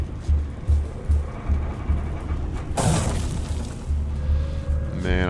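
Turret fire in the Dune: Awakening video game: heavy booming shots repeat at a steady pulse, then one loud burst near the middle, mixed with game sound effects.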